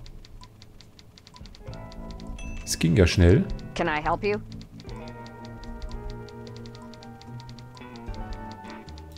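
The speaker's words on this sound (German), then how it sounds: "Und ich höre schon wieder was tippen." Rapid, light typing clicks from the Thimbleweed Park video game tick along steadily under game dialogue and German-speaking commentary.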